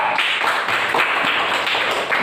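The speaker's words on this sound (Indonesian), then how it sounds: "Kelompok tepuk tangan untuk kelompok 3." Students in a classroom clapping for a presenting group, a brisk, close burst of many hands clapping together, steady throughout the short stretch.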